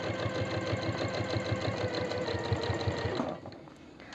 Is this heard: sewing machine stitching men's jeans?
yes